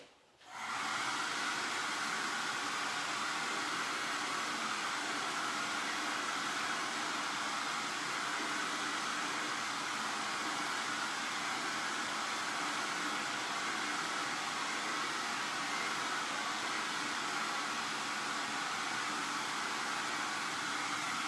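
A hair dryer blows on a wet craft project, starting up abruptly and then running as a loud, constant rushing whoosh of air with no change in pitch or volume.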